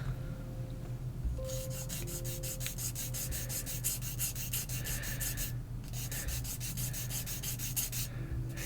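Nail file filing fingernails, a fast, continuous rasping rub in quick strokes, close but quiet, with two brief pauses.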